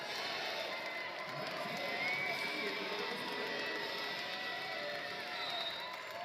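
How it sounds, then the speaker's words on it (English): A volleyball crowd on its feet at match point inside McAlister Fieldhouse during The Citadel vs Furman. A dense, steady roar of cheering and shouting fills the whole stretch without any break. "Crowd on its feet here inside McAlister Fieldhouse."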